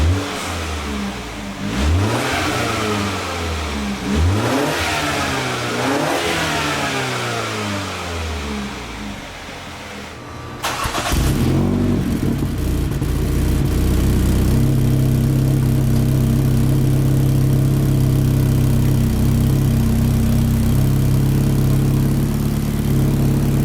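BMW X1/X2 with a Dinan aftermarket exhaust, engine warm and in comfort mode, revs up in several loud rising sweeps, then settles into a steady, throaty drone close by, with no talking.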